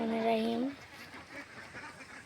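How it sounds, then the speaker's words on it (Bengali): Farm ducks from a flock of about 360 give a short burst of loud quacking at the start, then fade into softer, scattered calls and background murmur. "খামারদের হাঁস এখানে তিনশো ষাটটা হাঁস"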